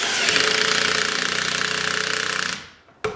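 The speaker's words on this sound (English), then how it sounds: "Now I'm gonna go ahead and start drilling" Power drill boring with a 7/16 spade bit, a loud steady grinding whir with rapid rhythmic pulsing that runs for about two and a half seconds, then stops abruptly, followed by a brief restart burst.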